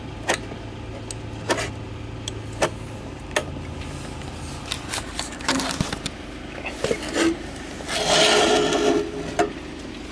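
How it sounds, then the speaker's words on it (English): Ticking, rubbing clicks from the spindle handle spinning the lenses of an old V/Line railway signal lamp, a steady run of close mechanical ticks with a louder grinding whir near the end. "And it has a spindle handle. It spins the lenses."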